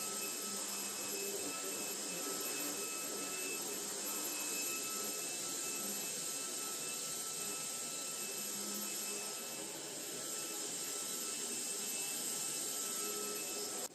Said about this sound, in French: je vais passer un beaucoup d'aspirateur partout sur mon fauteuil